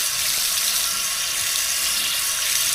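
Water gushes steadily from an outdoor tap at a campsite, a continuous bright splashing hiss with no voices.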